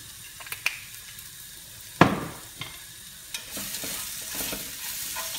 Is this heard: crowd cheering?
no